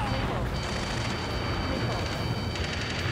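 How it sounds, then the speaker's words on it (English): Dense, continuous video-game gunfire during a shootout near a gantry crane, with rapid overlapping shots and booms filling the whole stretch at steady loudness while voices shout in the mix. "Taking fire! We're pinned down! Shoot back!"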